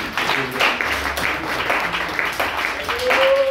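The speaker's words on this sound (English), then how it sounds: "clap hands for him." A church congregation claps hands during a worship service: a dense, steady wash of many hands clapping together, with voices carrying over it.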